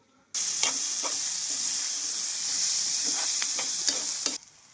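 Cumin, curry leaves, green chillies and onions frying in a pan give a loud, continuous sizzle from start to finish, punctuated by brisk stirring clicks and scrapes close to the microphone.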